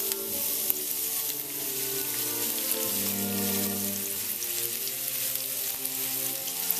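Chopped scallions sizzle and crackle steadily in hot oil for a dumpling topping, a close, continuous frying hiss with tiny popping bursts and no talking.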